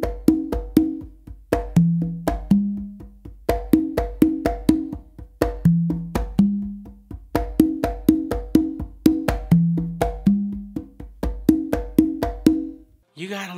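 Congas played slowly in a slappy three-drum exercise: evenly spaced slaps and open tones move across three drums in a repeating pattern, close and clear with no talking.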